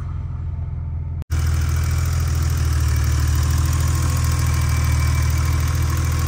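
A 1986 BMW 635 CSi E24 automatic with low mileage idles steadily and evenly, close by, after a brief click near the start.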